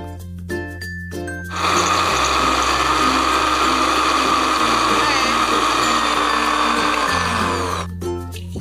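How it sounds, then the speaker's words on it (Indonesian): A blender grinds ingredients for spicy crispy glass chips, roaring loudly and steadily for several seconds, starting abruptly after a few clicks and stopping just as suddenly. "kita masukkan bahan-bahannya ya untuk dihaluskan"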